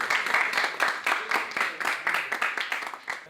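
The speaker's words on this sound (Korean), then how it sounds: "여러분 다 박수 한번 주세요" An audience at a Korean elementary school event gives brisk, rhythmic hand clapping for a student award winner, close and steady through the whole stretch with no talking over it.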